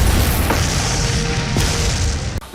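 A film explosion effect with dust and ash scattering toward the camera, heard as a loud, continuous low rumbling boom that fills the space and ends abruptly.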